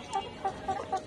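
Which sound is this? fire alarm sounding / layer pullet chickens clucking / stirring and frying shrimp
layer pullet chickens clucking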